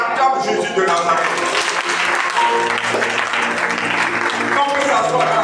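A church congregation applauds and cheers for Jesus of Nazareth, sustained loud clapping filling the room with music and voices underneath throughout.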